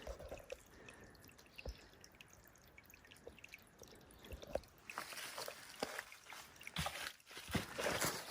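Small spring water trickling into Bryant Creek near Springfield, Missouri, faint dripping and soft splashes outdoors that grow into a fuller, louder trickle partway through.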